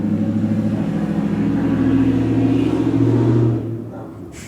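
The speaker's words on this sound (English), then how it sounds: "Nobody needs a car that loud." A loud car engine rumbles steadily close by, a low, throbbing drone that swells slightly, then drops away near the end before a sharp noise.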